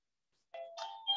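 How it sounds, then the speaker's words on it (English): A household doorbell chimes once, a clear two-tone ding-dong heard alone and fairly quiet against silence, cut off as it ends. "my doorbell is ringing"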